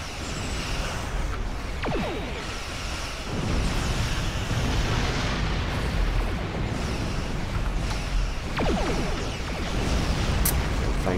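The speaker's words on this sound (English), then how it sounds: "Way too close to these explosions." Explosions going off close by in a flight video game, heavy rumbling booms and bursts layered over a constant roar of engine and wind noise, with several sharper blasts standing out.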